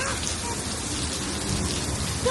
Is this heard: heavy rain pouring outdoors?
yes